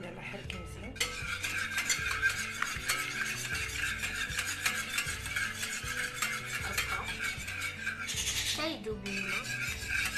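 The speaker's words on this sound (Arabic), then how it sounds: "يلا حركي مزيان." A utensil stirring a milk and water mixture in a pan for stovetop apple pie, rhythmic scraping strokes against the metal, close and steady, with a clatter near the end.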